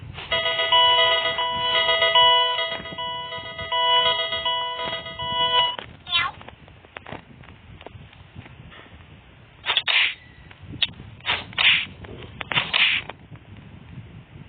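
A telephone rings with a repeated electronic melodic tone for about six seconds, then stops, followed by scattered knocks and bursts of noise.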